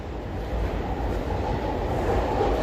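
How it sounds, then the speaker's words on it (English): Trains rolling on elevated tracks near Shinjuku Station in Tokyo produce a steady, dense rumble that stays loud and even throughout, with no voices present. "there are lots of trains here, and it's because all these are leading towards Shinjuku Station"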